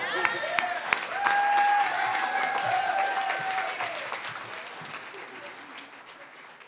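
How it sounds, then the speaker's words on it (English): An audience applauds the cast after a multicultural center community college performance, with dense, loud clapping and some cheering that swells and then slowly fades while a voice speaks over it. "we just give another round of applause to our awesome cast"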